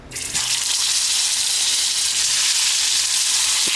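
Frozen sweet plantains drop into hot oil and erupt into a loud, steady crackling sizzle that starts abruptly and continues unbroken without talk.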